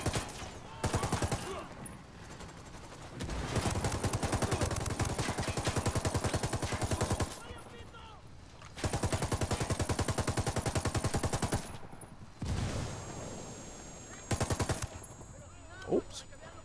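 Automatic rifle fire rattles in Ghost Recon Wildlands, long rapid bursts of gunshots separated by short pauses, loud and close, with a sharp single crack near the end.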